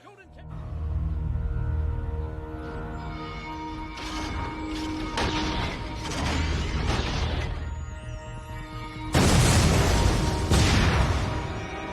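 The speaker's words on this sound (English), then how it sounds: "Prepare the cannon to be fired." A defense cannon fires: heavy booming blasts and crashing impacts burst out over a dramatic scene, with a louder, sustained explosion near the end while people talk.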